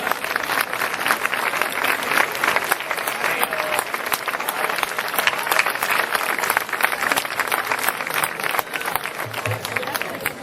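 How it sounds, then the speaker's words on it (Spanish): Audience applause for a speaker at a Spanish political gathering, a dense, steady wash of clapping throughout, with a few voices mixed in beneath it. "Un fuerte aplauso"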